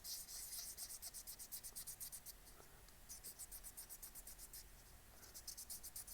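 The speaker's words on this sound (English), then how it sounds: "I thought, I really want to hand sand an Easter egg today." A resin Easter egg turned on a lathe is hand sanded, giving a rapid, rhythmic raspy rubbing in steady back-and-forth strokes, close and continuous with a brief lull midway.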